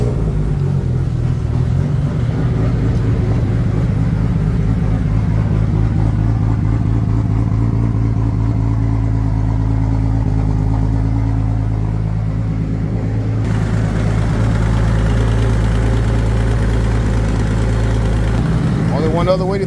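Car engine cold-starting and idling after a power steering idler pulley install, a loud, steady low rumble with a strong hum throughout and a brief change in tone partway, with a person talking over it.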